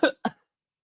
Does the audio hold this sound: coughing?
yes